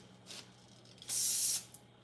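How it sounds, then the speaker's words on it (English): Short bursts of aerosol spray hissing in a quiet room, a faint puff followed by a longer, loud steady spray lasting about half a second, then a brief final spurt. "Just need a little spray."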